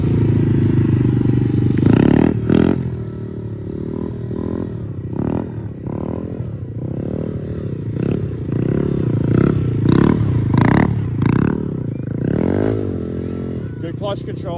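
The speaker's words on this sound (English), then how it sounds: "your bike helps me know what you're doing because I can hear it, the squeaking brake" A motorcycle practising circle wheelies: the engine revs up and falls back repeatedly, each throttle surge loud and close, with a squeaking brake and a voice talking over it.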